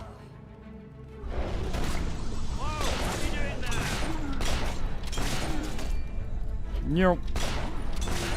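Gunfire in the video game Fable 3 crackles in rapid bursts behind someone talking over the game, several sharp shots layered with other game effects.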